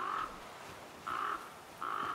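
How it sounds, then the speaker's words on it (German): A crow in the video game The Flame in the Flood gives three harsh, evenly spaced caws, each clear and fairly close against quiet ambience. "Blöde Krähe macht natürlich Lärm."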